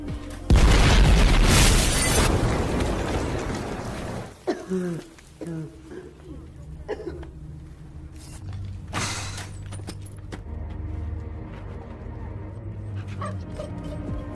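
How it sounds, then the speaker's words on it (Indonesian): A loud, roaring boom like an explosion opens, followed by rumbling debris, a dog barking and whimpering, and scattered mechanical clatter. "akibat ledakan bom itu, 2 anggota tim Kat meninggal dunia"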